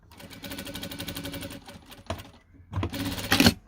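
A sewing machine stitches fabric scraps for a log cabin quilt block: a long run of rapid, even needle clatter, a brief pause, then a second burst of stitching, close and clear.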